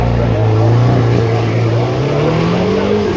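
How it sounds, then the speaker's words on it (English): Supercar accelerating hard out of Molecomb at the Goodwood Festival of Speed, a loud engine note climbing steadily in pitch as it pulls away, close and sustained. "Just have a listen to this as it accelerates out of Moulton"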